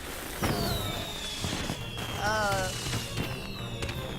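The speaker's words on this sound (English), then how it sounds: "Why would untested magic fireworks that I bought in a back alley from Trixie at midnight" Untested magic fireworks go off in a cartoon scene, with a whistling rise, crackling bursts and a warbling shimmer partway through, mixed with background music and talking voices.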